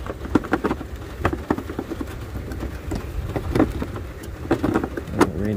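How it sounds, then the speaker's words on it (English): Heavy rain comes down steadily outdoors, a dense wash of pattering with sharper nearby drops and occasional thumps, continuous and fairly loud throughout with no talking. "Rain start coming down heavy."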